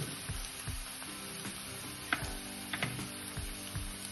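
Finely chopped capsicum and vegetables sauté in hot oil while Masala Maggi is made at home, giving a soft steady sizzle with faint ticks and stirring scrapes.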